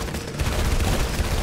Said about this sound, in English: the blast from the explosion sort of shoots me up